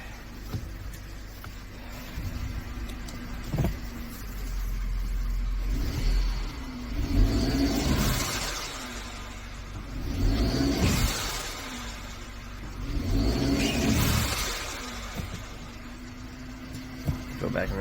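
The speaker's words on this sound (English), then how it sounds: "And right now I am power braking it to give it some sort of engine load." Engine of a 2013 Mercedes-Benz C250 under load while being power braked, its rumble swelling into three or four drawn-out revs over a steady idle, with a few sharp knocks in between.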